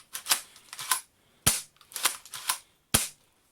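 A spring-powered Double Eagle Spas 12 airsoft shotgun is worked with sharp plastic clacks and snaps in uneven clusters, separated by short quiet gaps, close and fairly crisp.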